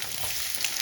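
Green chilies and a roughly diced medium onion hit hot oil in a frying pan for a steady, close sizzle with no talk over it.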